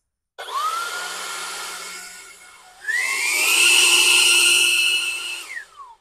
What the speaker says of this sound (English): it just blows as hard as you squeeze the trigger